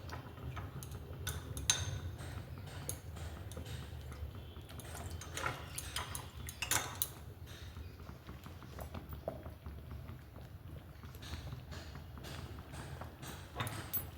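A spoon stirs cornflour into homemade tomato sauce in a pan, producing faint, steady ticking and scraping taps against the pan that repeat in an irregular rhythm over a quiet low hum.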